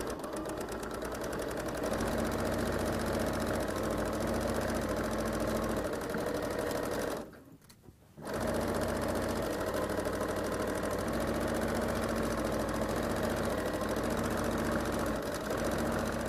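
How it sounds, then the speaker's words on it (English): A sewing machine stitches the inside seam of a pair of pants, running in a steady mechanical hum for several seconds, pausing briefly, then running on evenly. "We're sewing together the inside seam of our pants."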